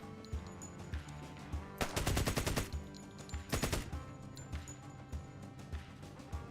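Gunfire in a video game comes as two loud bursts of rapid automatic fire, with scattered single shots and thumps between them over low background noise.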